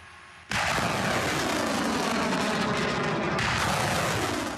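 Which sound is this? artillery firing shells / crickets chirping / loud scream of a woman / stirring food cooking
artillery firing shells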